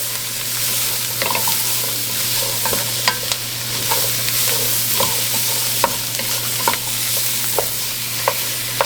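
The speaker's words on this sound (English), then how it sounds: "We're going to cook this down for about 5 minutes. Stir this around." Vegetables of the Holy Trinity sizzle and fry in a gumbo pot for Louisiana seafood gumbo while a spoon stirs them, giving a steady hiss broken by frequent scraping clicks, close and with no talk.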